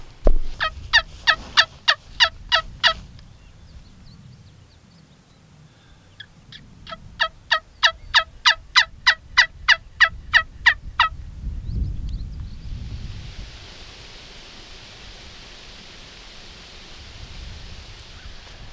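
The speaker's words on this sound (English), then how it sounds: "we got a gobbler right over this hill over here" Wild turkey gobbler in Kansas Rio country gobbling in two long rattling bursts from over a nearby hill, followed by soft rustling and a steady hiss of wind or breeze, no voices.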